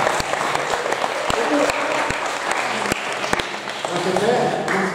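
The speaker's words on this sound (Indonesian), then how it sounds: "Tepuk tangan untuk bapak saya" An audience at a Catholic seminary family gathering in Semarang breaks into sustained applause, dense clapping filling the room for several seconds, with a voice talking over it.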